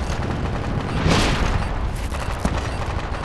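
Dense, continuous gunfire from a video game, loud and close, with sharp sniper bursts rising above a steady roar of shots and blasts.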